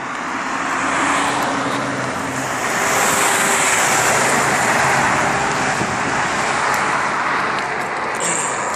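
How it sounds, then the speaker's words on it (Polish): A Scania bus in Norway drives past, a loud broad continuous roar of engine and road noise that swells in the middle and fades slightly toward the end. "piękna Scania jedzie"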